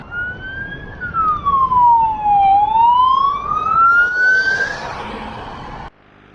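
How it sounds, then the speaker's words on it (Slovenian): An ambulance siren on a road in Mallorca wails loud and close in a single long sweeping tone that falls, rises again and then cuts off, with road noise beneath. "Tukaj pa še en rešilc."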